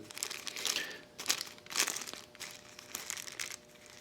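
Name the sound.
plastic baggie crinkling as it is worked over a lever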